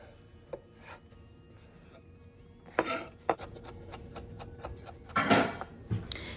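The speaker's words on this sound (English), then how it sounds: "First, you'll want to slice and then mince 3 cloves of garlic." Knife slicing then mincing three garlic cloves on a cutting board: sparse taps at first, then quicker, sharper chops with a scraping sweep, close and fairly quiet.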